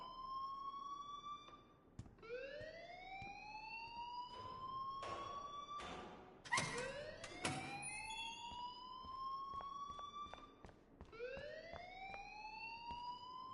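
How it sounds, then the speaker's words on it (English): An alarm in the video game Life is Strange wails on and on in rising, siren-like sweeps that repeat every few seconds, loud and continuous, with no voices over it. "please turn off that alarm since that's your job"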